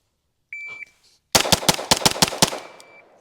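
Seven rapid pistol shots from a Staccato HD P4 crack out loud and close in a tight string during range shooting, preceded by a brief electronic timer beep, with the reverberant tail fading after the last shot.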